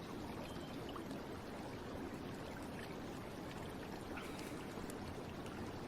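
Stream water flows and trickles in a dense, steady wash that holds the same gentle level from start to finish, with no voices over it.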